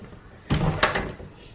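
Hotel room door being tried without opening: a couple of loud, close knocks and rattles of the handle and latch, each followed by a short ringing tail, with no talk.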